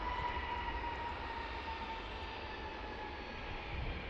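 An American Airlines airliner in Piedmont retro livery at Washington's DCA airport produces a steady, loud jet engine roar with a sustained whining tone, heard alone without talk.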